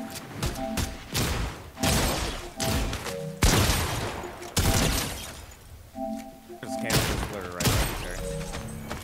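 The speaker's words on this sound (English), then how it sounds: "I'm getting sniped." Sniper fire and heavy impacts in the shooter game A Dark Legacy, a series of loud booming cracks and crashes spaced a second or so apart, with talking between them.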